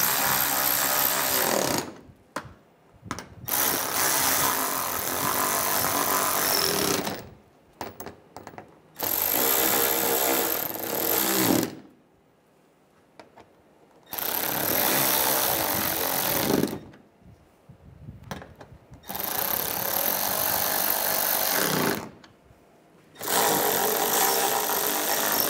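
A powered driver runs in repeated long bursts with short pauses between them while fastening the bolts on the AC condenser of a 2006-2009 Mercedes-Benz E350. Each whirring run is loud and close, about five in all.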